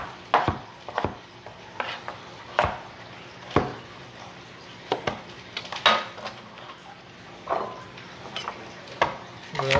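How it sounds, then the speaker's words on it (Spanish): A knife chopping coconut into smaller pieces on a board, heard up close: sharp, irregular chops spaced across a quiet kitchen background. "Voy a picar en pedazos más pequeños."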